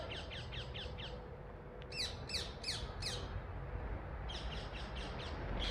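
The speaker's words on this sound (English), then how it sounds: "Can you hear them, the birds?" Birds give repeated harsh squawking calls in quick runs of several notes each, somewhat distant, over a steady background hum.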